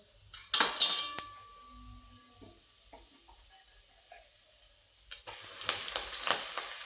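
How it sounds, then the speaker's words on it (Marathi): Mustard seeds and cumin hit hot oil in a home kitchen with a couple of sharp sizzling bursts and crackles, along with metal utensil clinks and pan scraping. Quieter stretches sit between the louder spurts. "तेल गरम झाले आता तेलामध्ये पहिल्यांदा मोहरी जिरे"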